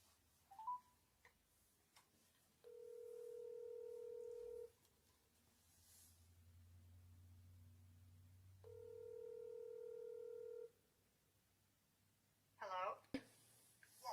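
A phone places an outgoing call: two long, steady ringing tones sound several seconds apart, with quiet pauses between them, and a voice breaks in briefly near the end.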